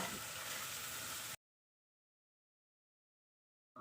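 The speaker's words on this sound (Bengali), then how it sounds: "এবার হলুদ গুঁড়ো ও লঙ্কার গুঁড়োটা দিয়ে দিতে হবে এবং নাড়াচাড়া করে নিতে হবে যতক্ষণ না মশলা থেকে তেলটা ছেড়ে যাচ্ছে" Turmeric and chili powder frying in hot oil and being stirred for a Bengali fish curry, a close, bright sizzling hiss lasting just over a second before cutting to silence, with a brief return at the very end.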